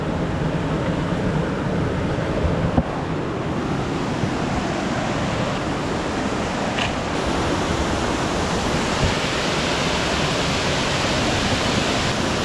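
Steady rushing roar of falling water, broadband and constant, with a light breeze blowing across the microphone.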